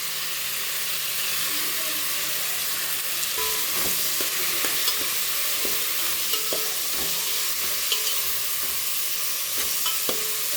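Mint and tomatoes sauté in a hot pan with a constant loud sizzle and hiss, small stirring clicks and scrapes scattered through it, and no voices.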